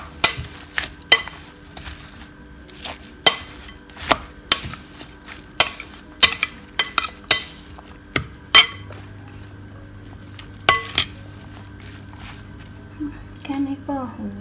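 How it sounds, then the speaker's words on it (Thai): Fried rice ball salad with fermented fish (naem khao thot) being tossed with chili flakes and squeezed lime: repeated sharp clinks and scrapes of a utensil against a dish in an irregular rhythm, close by, with some talking. "พริกป่นนิดหน่อย บีบมะนาวลงไป คลุกเคล้าให้เข้ากัน"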